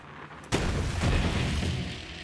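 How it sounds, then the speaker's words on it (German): A grenade explodes in the Borderlands 3 video game: one sudden, loud boom followed by a broad, rumbling roar that keeps filling the rest of the moment. "Eine Granate, ja?"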